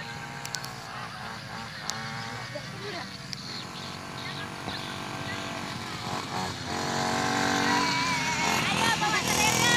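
An XK A600 RC airplane's electric motor whines with a buzzing tone that rises and grows louder toward the end. People talk over it throughout.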